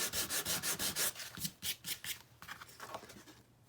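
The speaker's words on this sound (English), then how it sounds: "you can just kind of sand" Craft material for a grungy Christmas junk journal being sanded by hand: fast, even rubbing strokes at first, then slower, lighter and more irregular scrapes, close up and fairly quiet.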